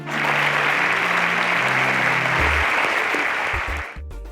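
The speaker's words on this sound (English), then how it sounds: "A round of applause for them as they exit the stage." Studio audience at a televised semi-final competition applauds as contestants leave the stage, dense continuous clapping that fades out near the end.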